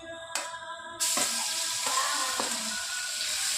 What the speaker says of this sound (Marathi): त्यानंतर घालणार आहोत आलं लसूण पेस्ट,